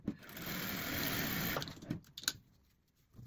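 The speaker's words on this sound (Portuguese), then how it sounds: "Passo aqui uma costura." A sewing machine stitches a seam joining small fabric scraps in one continuous run of about a second and a half, close and fairly loud, then stops, leaving a few light handling clicks and taps.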